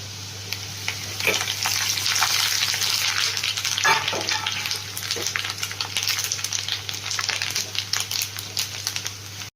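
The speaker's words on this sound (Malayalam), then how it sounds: "അതിലേക്ക് നമ്മൾ കുറച്ച് കരിയാപ്പില ഇട്ട് കൊടുക്കുക." Curry leaves hitting hot oil with garlic and ginger in a pan for Kerala fish curry, a loud, steady sizzle with sharper crackling bursts throughout and a low constant hum underneath.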